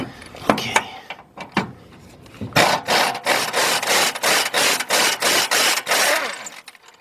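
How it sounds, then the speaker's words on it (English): A socket wrench loosens a bolt on the fuel pump strap of a 1999 Lincoln Navigator, a few scattered ratchet strokes followed by a steady, rhythmic run of close, rasping back-and-forth ratcheting. "Let me get a socket on this thing."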